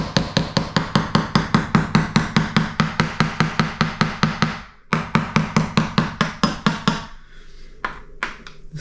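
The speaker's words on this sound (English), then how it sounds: "there's still quite a lot on the sleepers, so you just tap it with a hard object" Loud, steady series of sharp taps from a hard object such as a spoon striking railway sleepers on a model railway layout to shake sand loose, evenly spaced, with a brief pause midway and a few scattered taps at the end.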